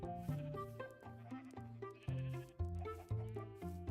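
Several sheep on a video game sheep farm bleat over and over in overlapping, wavering cries, close and loud, with a faint steady background underneath.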